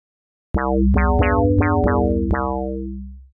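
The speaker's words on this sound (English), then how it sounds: "Now let's hear oscillator A." A bright, buzzy wavetable tone from oscillator A of the Serum synthesizer playing a short run of sharp-attacked notes with a low bass underneath, each note's brightness quickly decaying before the sound tails off.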